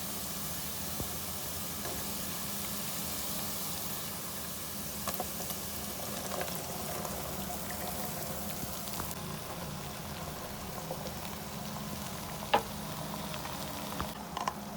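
Sliced ridge gourd sizzles in a pan with cumin and fried onion, giving a steady, even hiss with a few faint pops and no talking over it.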